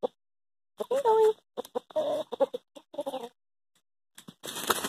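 An Ameraucana rooster and hen cluck in short, broken bursts at close range, with brief gaps of quiet between the calls and a faint voice now and then.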